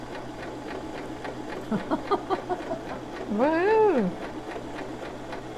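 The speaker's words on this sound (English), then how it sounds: "Put your presser foot down. Okay. There we go. you are sewing." A sewing machine stitches steadily with the presser foot lowered, a soft running hum with a quick burst of rhythmic stitching, while a voice exclaims over it.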